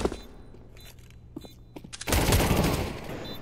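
Gunfire from a headshot in a Counter-Strike esports tournament match. A few faint scattered shots and thuds build to a sudden loud burst of rapid fire, and then a dense sustained roar.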